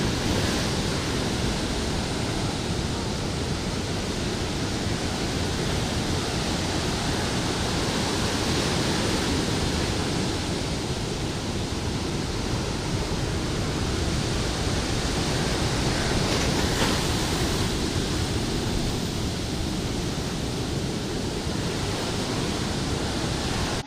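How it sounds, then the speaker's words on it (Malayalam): Huge sea waves pound the shore during a sea surge along a coastal stretch of Kerala, a steady, broad roar of surf with gentle swells in loudness and no voices. "കൂറ്റൻ തിരമാലകൾ കരയിലേക്ക് ആഞ്ഞു പതിക്കുകയാണ്"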